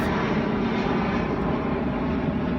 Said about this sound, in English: I'm getting drowned out by the ever-running airplanes